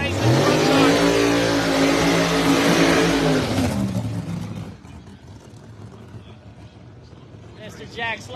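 Supercharged drag racing car engine revving loudly and steadily for about four seconds, then cutting away to a faint, distant rumble with a brief spike near the end; a commentator talks over the engine throughout.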